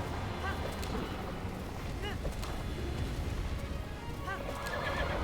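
A horse ridden in a Zelda game neighs in several short whinnies over a fast steady clip-clop of galloping hooves, fairly loud and continuous, with a voice faintly underneath.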